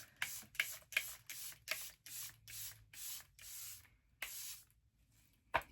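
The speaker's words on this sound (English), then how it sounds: "we're finally on to setting spray" A rapid series of short misting bursts of makeup setting spray, about a dozen quick pumps, then a pause and one final spritz, close and crisp.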